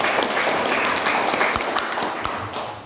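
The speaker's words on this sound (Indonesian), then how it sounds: "Tepuk tangan untuk kita semua." Audience applause at an Indonesian teacher training dissemination event, a dense, steady round of clapping that slowly fades near the end.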